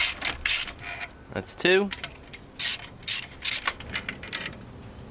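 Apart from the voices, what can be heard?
ratchet loosening car alternator bolts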